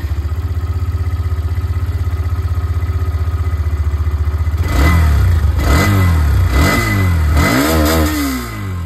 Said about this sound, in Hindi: स्टार्ट करते हैं एग्जॉस्ट साउंड ऑफ एक्सट्रीम